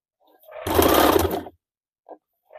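A sewing machine stitches along a folded neckline strip on a boat-neck blouse, one steady close run of under a second, with brief faint handling sounds after it stops.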